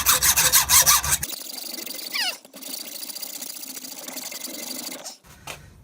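Hacksaw with a fresh blade cutting metal bolts down to a custom length, a steady rasping back-and-forth stroke close up, loudest at the start, with a brief pause partway and near the end.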